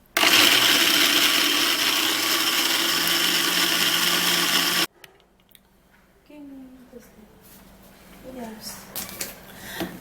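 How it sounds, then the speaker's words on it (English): A blender whirs loudly and steadily for about five seconds, blending granules, then cuts off abruptly, leaving quiet handling noises and faint background sounds. "we're gonna be getting a blender and then we're gonna be blending our granules"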